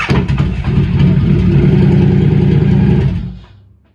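A Harley-Davidson motorcycle engine, from a Sportster S or Pan America, fires up right away. It settles into a loud, steady, throbbing idle, then cuts off and fades out near the end.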